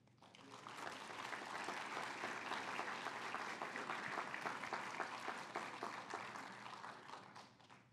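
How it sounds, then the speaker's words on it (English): A graduation audience at a Bowling Green State University Firelands College spring commencement breaks into loud, sustained applause, a dense wash of clapping that swells quickly and holds steady for several seconds before easing slightly. "I ask the graduates to give a round of applause for those who supported you on your journey"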